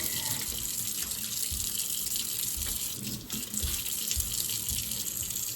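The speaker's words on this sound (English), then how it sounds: "Stop it up. Put some hot water in it." Hot water runs steadily from a tap into a stoppered sink that is being filled, a continuous close splashing hiss with no talk over it.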